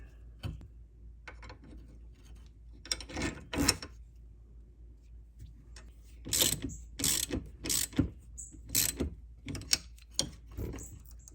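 A ratchet wrench clicks in short bursts as a bolt is tightened into the shock of a Club Car Precedent golf cart, with crisp, close rhythmic pawl ticks separated by pauses in a quiet workshop.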